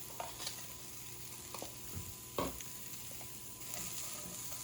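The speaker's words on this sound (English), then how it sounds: "I'm going to start by putting onions down in the pan" Onions sauté in a pan, a faint, low sizzle with a few scattered stirring clicks and scrapes and no talking.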